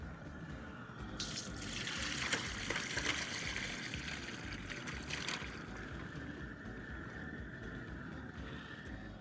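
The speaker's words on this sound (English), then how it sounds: "I'm fixing to drain the old water off of them" Cool soaking water drains off freshly cut raw potato fries in a kitchen sink, a steady rushing pour that swells for a few seconds and then settles into a softer trickle, close and with no talking.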